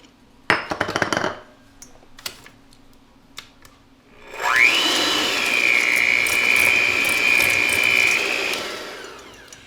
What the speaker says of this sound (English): we're going to cream the room temperature butter and the sugar